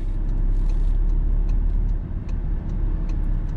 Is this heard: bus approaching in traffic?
yes